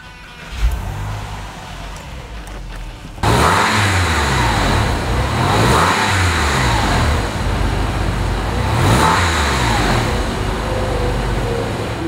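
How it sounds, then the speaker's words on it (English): A 1999 Porsche 911 Cabriolet engine cranks briefly, catches and fires loudly, then revs repeatedly in rising and falling surges from close by. "How about I start it for you so you can hear what it sounds like."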